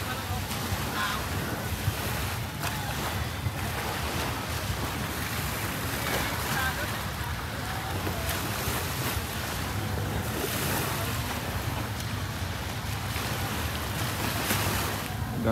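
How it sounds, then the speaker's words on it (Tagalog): Sea surf on Boracay beach at Station 2 on a hot afternoon rolls in a continuous wash mixed with wind buffeting the microphone, with distant beachgoers' voices faintly beneath. "Ganda ng beach, ganda ng dagat,"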